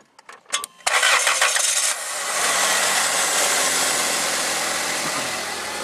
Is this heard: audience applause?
no